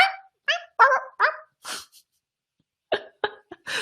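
A person's voice imitates a puppy barking: a quick series of short yappy barks and sniffy yips, close and dry, with a pause before a final cluster of barks.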